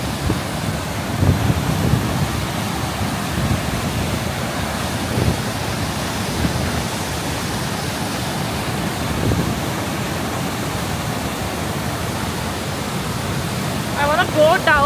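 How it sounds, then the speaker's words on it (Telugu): High Force waterfall in County Durham, UK, roars as a steady, loud, broadband rush of falling water that fills the whole scene without pause. "కింద పడుతుంటే ఎంత"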